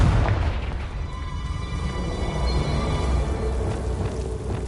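A Confringo blasting spell explodes in the game Hogwarts Legacy, a dense, loud booming rumble that sustains with a crackling roar for several seconds, with no speech over it.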